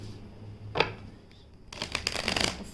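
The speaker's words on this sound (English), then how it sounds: "One more shuffle." Tarot cards shuffled by hand: a brief riffle, a pause, then a longer crisp burst of rapid card flutter, close and fairly quiet in a still room.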